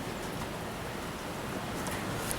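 Steady rain falls outside a very small shed, a soft, even broadband hiss that holds at a constant level throughout with no speech.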